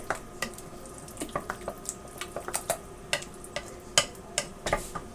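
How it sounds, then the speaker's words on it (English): A spoon stirs Kool-Aid into thick cherry pie filling for a low sugar pink fluff, giving a steady run of sharp, close clicks and taps against the bowl over a faint background hiss. "I'm going to mix that Kool-Aid into that cherry pie filling."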